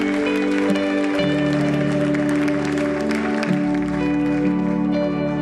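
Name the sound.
congregation applauding for the king of kings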